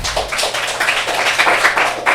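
An audience applauding the host at a community talk, steady dense clapping from a small crowd, close and sustained for a couple of seconds.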